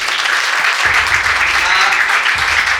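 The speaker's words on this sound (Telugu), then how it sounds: "ఒకసారి చప్పట్లు కొడదాం." Loud, steady applause from an audience at the launch of a Christian TV channel, a dense clapping wash that fills the whole stretch with a faint voice underneath.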